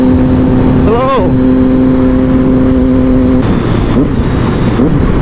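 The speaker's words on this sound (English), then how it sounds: "The downshifts are super smooth, man. So easy to rev match on this bike." A Triumph Daytona 675R motorcycle engine hums loudly and steadily, then gives a sharp rev-matching blip on a downshift, followed by two more quick blips near the end. A voice is faintly audible under the engine.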